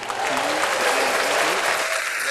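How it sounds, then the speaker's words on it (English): A crowd gives a round of applause that holds steady and loud from start to finish, with a few tonal murmurs and voices mixed into the dense clapping. "let's give a round of applause to"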